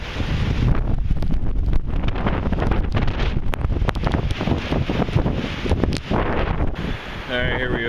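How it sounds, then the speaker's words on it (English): Hurricane Sandy lashes the scene with roaring wind and torrential rain, a loud, constant rushing buffet on the microphone that barely lets up, with rustling trees and no clear speech. "Definitely a lot more torrential type downpour going on."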